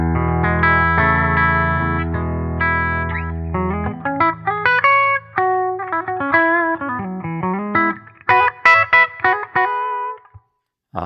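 PRS S2 McCarty 594 Singlecut guitar on its bridge humbucker through a 20-watt amp, sustained chords giving way to single-note runs and bends, close and clean-toned with chorus-like shimmer, ending in a short silence.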